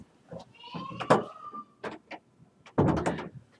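A door creaks as it is slowly closed indoors, a thin squealing whine stretching across several seconds between soft knocks and movement, with no talk over it.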